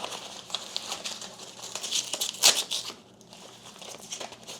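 A Velcro strap fastens a top tube cover on a Scicon gravel bike travel bag, giving close crackling and ripping rustles with a sharp peak in the middle, then quieter handling noise.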